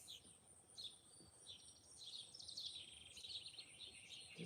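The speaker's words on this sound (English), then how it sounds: "Just listening to the birds for a second here. They're so loud." Birds chirp and sing steadily outdoors, a high, busy chorus of calls layered over faint background noise, with no talking.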